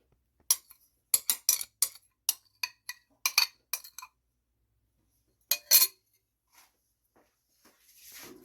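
A utensil clinks and taps against a bowl while beaten eggs are mixed into brownie batter made with cocoa and cashews, in quick irregular bursts, a pause, then a few more taps and a soft scrape, close and fairly quiet.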